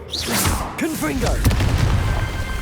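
Blasting-spell explosion from Hogwarts Legacy, the Confringo curse, landing as a heavy low boom and crackle after a few tonal voice-like swoops, with rumbling debris trailing off to the end.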